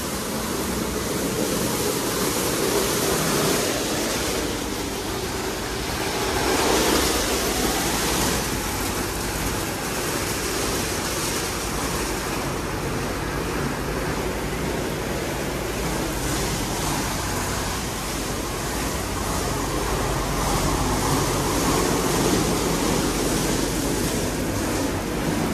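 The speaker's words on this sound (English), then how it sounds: "As you can see, we are washing and wheel cleaning currently." A PDQ Tandem Surfline automatic car wash spraying and cleaning wheels, a loud, continuous hiss and rush of water jets close by, steady for the whole stretch with no break.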